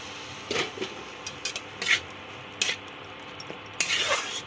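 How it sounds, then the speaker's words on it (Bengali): Chopped tomatoes and spices frying in a pan for Schezwan chicken pasta, with a few spatula stirs and clinks against the pan rising over a soft low sizzle, close and moderately loud. "টমেটো আর সব মশলাগুলো ভালো করে কষে নেওয়ার জন্য আমি অপেক্ষা করব"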